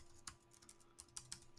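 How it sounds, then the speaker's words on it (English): Light typing on a computer keyboard during a game session, a few sparse, quiet key clicks at uneven intervals with soft pauses between them. "Why am I always typing?"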